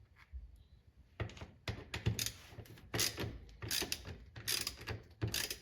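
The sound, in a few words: removing charger bolts with a T28 bit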